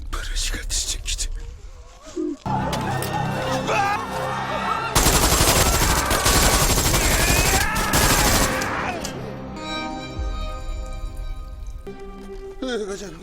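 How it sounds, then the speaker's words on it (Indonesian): Film gunfire as a deranged doctor brutally shoots at everyone: dense bursts of rapid shots and a fusillade layered with dramatic score, loud and chaotic, with voices shouting through the action. "dengan brutalnya menembaki semua orang"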